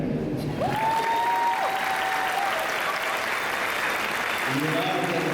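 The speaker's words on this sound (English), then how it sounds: "I hope you will clap there." A high school graduation audience claps in a steady, full wash of applause. A voice and tonal sounds briefly rise over the noise.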